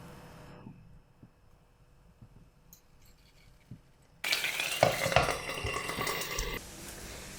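Runny TikTok-hack pancake batter cooking in a pan: a few seconds of near quiet with faint clinks, then a sudden loud burst of hissing that holds and eases slightly toward the end.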